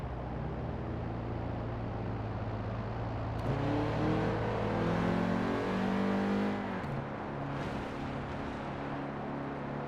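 A car engine in the racing video game Forza Horizon 4 drones steadily at cruising speed, then rises in pitch as it revs up midway before settling back to a steady hum, with no talk over it.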